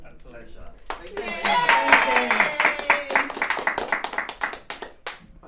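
Audience clapping for Chickenshed Theatre Company, a dense burst of many hands that swells quickly, holds steady and then thins out, with voices calling out over it.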